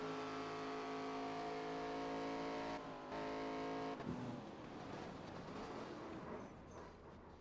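Onboard with Brandon Krasta's race car in a FARCA Premier series race, a loud, steady engine drone holds a constant pitch, then shifts into rougher, noisier roaring as the car changes speed.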